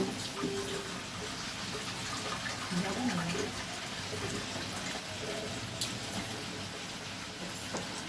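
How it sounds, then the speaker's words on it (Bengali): Water is poured from a vessel into a pot of bottle gourd curry, making a faint, continuous splashing trickle with background kitchen noise. "দেখো এবার আমি জলটা ঢেলে দিলাম।"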